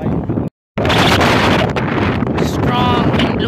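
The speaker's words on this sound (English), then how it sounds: "Strong wind blowing on this peak right here." Strong wind roars across an exposed mountain peak during a family hike, a loud, continuous buffeting rush hitting the microphone, broken only by a brief silent gap near the start.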